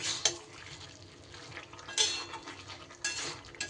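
Vegetables for a Bengali vegetarian chhyachra being stirred and mixed in a pan with a spoon, giving scraping, clinking strokes at an irregular rhythm over a soft background hiss.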